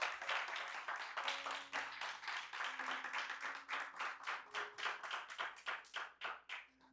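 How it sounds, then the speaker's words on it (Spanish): A church congregation claps during an evening service, a steady rhythmic burst of many hands that swells and pulses in even beats, close and unaccompanied by speech. "Dale un aplauso fuerte al Padre en esta noche."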